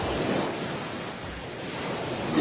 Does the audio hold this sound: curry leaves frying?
no